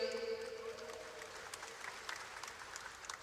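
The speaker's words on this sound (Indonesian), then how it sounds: "saya tepuk tangan yang keras dong" Audience applause at a cooperative-formation dialogue hall in Indonesia, a short burst of broadband clapping from a large crowd with a tonal ringing under it at the start.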